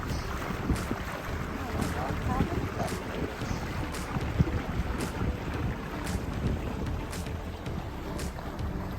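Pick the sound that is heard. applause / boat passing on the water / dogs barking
boat passing on the water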